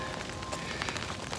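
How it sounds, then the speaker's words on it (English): Steady rain falls outdoors after hours of downpour, a dense, even patter and hiss on surfaces, moderately close, with no talking. "It's been raining for hours."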